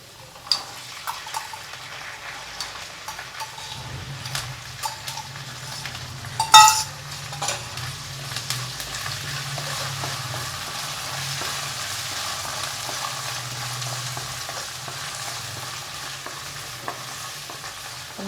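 Boiled peas sautéing in hot oil in a pan while preparing stuffed green chillies, a steady low sizzle and stirring running throughout with a brief louder clatter partway through, no talking.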